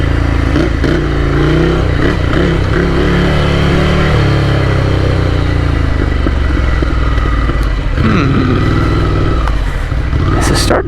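A Ducati Scrambler Desert Sled motorcycle rides off-road, its engine droning loud and steady throughout with brief revs and rattles, heavy wind rush over the top.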